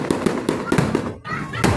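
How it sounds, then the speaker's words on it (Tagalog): Fireworks bursting at the SM San Fernando La Union mall grand opening, a rapid series of loud sharp booms and crackles close by, with excited voices of onlookers mixed in. "Fireworks po guys."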